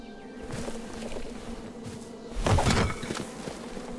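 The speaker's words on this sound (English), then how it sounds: "Bees!" Bees buzz around a tree in the video game King's Quest, a low insect drone that swells into a louder burst midway before easing off, with no speech.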